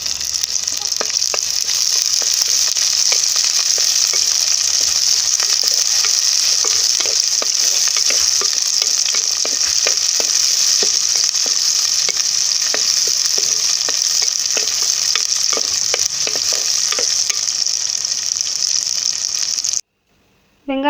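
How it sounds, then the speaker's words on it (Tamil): Onions and cut chilies sizzle and crackle steadily in hot oil in a pan, a dense continuous frying hiss with scattered pops and occasional stirring clicks, close and loud for about twenty seconds before stopping abruptly. "வெங்காயம் எல்லாமே பொன்னிறம் வர வரைக்கும் நல்லா வறுத்து எடுத்துக்குங்க"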